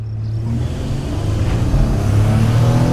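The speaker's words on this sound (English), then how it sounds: "I'm going to rev it" A 2014 Toyota Sienna minivan pulling away hard from a standstill, its engine roaring loud and close with a steadily rising drone under constant road and wind rumble.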